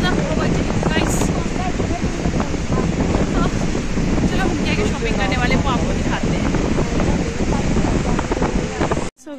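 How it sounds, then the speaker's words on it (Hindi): Strong wind in the hills at Kullu roars steadily into the microphone as a loud, constant rushing buffet, with a voice speaking underneath. "और यहाँ पे इतनी ज्यादा हवा चल रही है"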